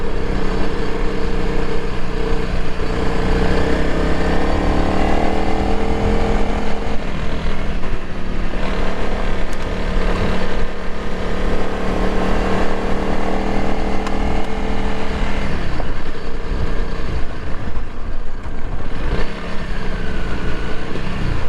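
A Honda CRF300L Rally motorcycle on Tusk DSport tires rides over gravel, its engine droning steadily and loud throughout, with continuous wind and road rumble and no pause.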